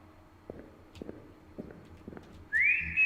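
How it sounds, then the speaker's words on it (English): In the video game Lost in Vivo, the player character gives one clear, rising whistle, loud and close, after a stretch of faint footsteps and soft knocks. "Oh, I can whistle again."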